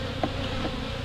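Honeybees at an open beehive make a steady, dense buzz with a faint rising hum from a nearby bee, continuous and close throughout the brief moment.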